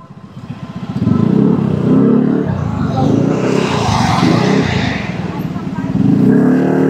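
Road traffic heard while riding a motorcycle near Taytay and Angono builds into a loud, steady engine drone with passing vehicles, close and continuous.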